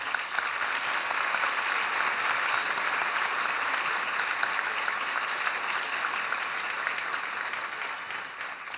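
Dense, sustained applause from a large audience after an opening lecture, steady and loud throughout without a break.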